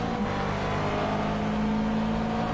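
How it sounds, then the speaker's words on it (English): A McLaren race car passing on a circuit heading into a chicane: a steady, sustained engine whine and roar, moderately loud and even throughout, with no voices. "I hear another McLaren, and there he goes"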